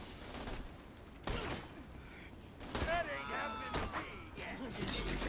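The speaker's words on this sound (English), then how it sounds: "Oh, explosions." Explosions and gunfire in the Borderlands 2 video game, several sharp bursts and crackling blasts in quick succession amid game effects, with a player talking over the action.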